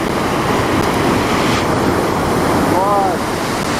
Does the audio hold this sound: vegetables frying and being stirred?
no